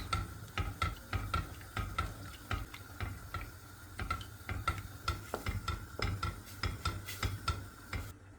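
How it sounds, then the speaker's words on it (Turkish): Milky mushroom soup bubbling in a pot while a spoon stirs it, giving a quick run of light ticking clicks against the pot over a soft boiling hiss. "Üzerine suyumuzu ilave edip ara sıra karıştırarak göz göz oluncaya kadar kaynatıyoruz."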